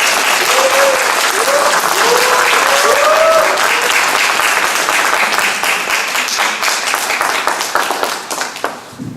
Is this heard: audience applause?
yes